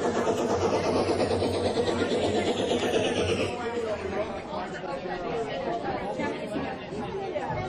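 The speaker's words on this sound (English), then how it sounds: "A large crowd filled the new station as the three engines puffed up to the platform." A large crowd murmurs and chatters steadily on a busy station platform as steam engines arrive, a dense wash of many voices at moderate distance.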